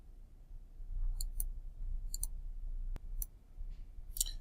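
Mouse clicks in an otherwise quiet room, several faint, sharp clicks spaced irregularly, some in quick pairs, over a low background hum.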